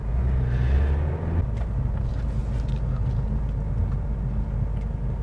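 An Opel Mokka 1.6 CDTi 4x4 diesel creeps along in second gear at about 15 km/h, giving a steady, close, low engine rumble with a brief heavier surge near the start and no talking.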